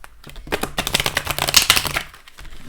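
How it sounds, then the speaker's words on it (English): Quick riffling and flapping of tarot cards being shuffled, a dense papery rattle close by that swells then trails off. "Give them a little bit of a shuffle."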